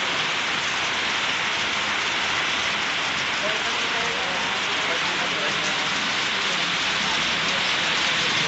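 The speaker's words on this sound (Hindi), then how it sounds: "देखिए नारायणपुर में बारिश पड़ रही है आज" Heavy rain pouring down in Narayanpur, Uttar Pradesh, near a row of shops, making a dense, constant hiss and patter on surfaces that fills the whole stretch without a break.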